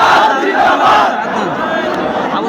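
A large rally crowd roars a takbir chant of Allahu Akbar, loud and sustained with many voices merging into one continuous shout.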